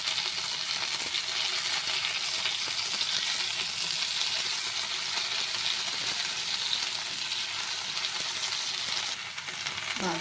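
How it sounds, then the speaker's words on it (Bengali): Pomfret fish fry in a pan for a Bengali-style jhal, giving a steady, close, hissing sizzle that holds evenly throughout and eases slightly at the very end, with no voices. "মাছগুলো এই যে এক পিঠ ভাজা হয়ে এসছে। এবারে একে একে সব উল্টে দেবো।"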